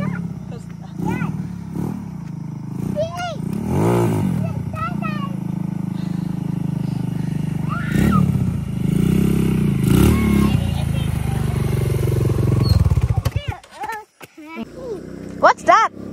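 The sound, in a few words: motorcycle passing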